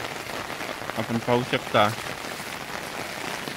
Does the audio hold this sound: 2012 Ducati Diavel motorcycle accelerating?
no